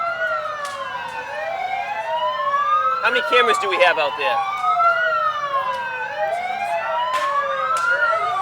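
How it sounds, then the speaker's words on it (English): Several emergency vehicle sirens wailing together at a Labor Day parade, rising and falling in overlapping sweeps with horn blasts mixed in, loud throughout while someone speaks over them. "So we're going to let you enjoy the sirens for just a minute."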